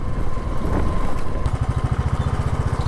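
A motorcycle engine running close by on a hill road from Siliguri toward Pelling, a rough steady drone that settles into a fast, even pulsing thump near the end; no talking.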